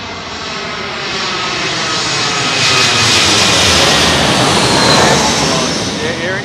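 Jet airliner roars in on arrival to runway 27L at London Heathrow during thunderstorms, a loud, swelling engine rush that builds over several seconds, peaks close by, then begins to ease.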